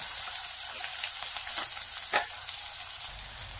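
Finely chopped onion hits hot oil already fragrant with star anise, cinnamon and byadgi chilli, giving a dense, continuous close sizzle with a few faint crackles and one brief sharper pop.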